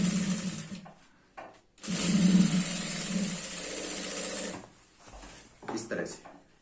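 A sewing machine stitching a zipper into a girl's skirt runs in short bursts, then in one long steady whirring run of about three seconds before stopping, close and clear, with a few handling knocks around it.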